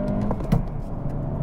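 A 2023 Acura Integra engine gives a brief, low, muffled rumble as the car pulls away, quiet and steady over a short moment.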